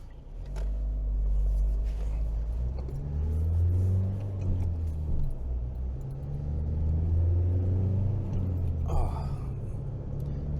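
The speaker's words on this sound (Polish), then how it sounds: "Teraz jedziemy, silnik głośno chodzi." A car engine hums and rumbles while driving, rising and falling with a low steady drone as it accelerates. Someone talks continuously over the engine noise.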